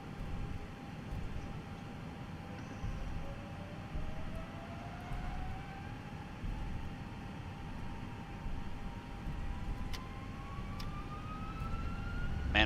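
An Airbus A320-232 rolls down runway 16 left for takeoff, its jet engines a steady roar with a rising whine that slowly climbs in pitch as thrust builds.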